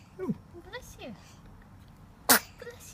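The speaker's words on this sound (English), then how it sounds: "Oh, even his sneezing's cute." A pet lets out one sharp, sudden sneeze late on, standing out clearly above a quiet room where a soft voice murmurs gently beforehand.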